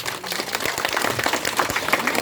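Audience clapping for two gamelan musicians at a Balinese bondres comedy performance in Banjar Belancan, Bangli: dense, steady applause from a nearby crowd with no talking over it.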